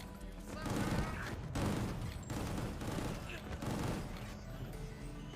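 Sustained rapid gunfire from the Gungrave G.O.R.E shooter game, with dense overlapping shots and impacts filling the scene without a break.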